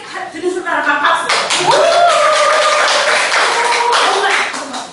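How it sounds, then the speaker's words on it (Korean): Audience clapping at a Korean motivational lecture, a dense wash of applause sustained for several seconds with a voice talking over it. "그렇게 되는 사람, 생각 드는 사람만 박수"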